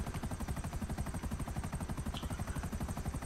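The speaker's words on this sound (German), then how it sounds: "Da sind wieder zwei Helis dran." Police helicopters in GTA V Online give a steady, loud rotor chop, a fast even pulse of thumping beats running unbroken from start to end.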